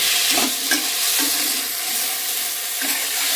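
Fried potato pieces are stirred through a spiced potato curry (alur torkari) in a pan, with a continuous loud sizzle and several soft, rhythmic scraping strokes of the spoon, and no voices.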